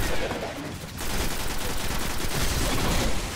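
Dense, rapid automatic gunfire in the shooter video game Destiny, a sustained loud barrage of overlapping shots with a brief dip near the start.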